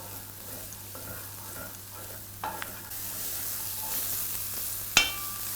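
Onion and shiitake mushrooms frying on high flame for kimchi fried rice, a steady close sizzle that grows louder partway through, with a sharp utensil knock near the end over a low hum.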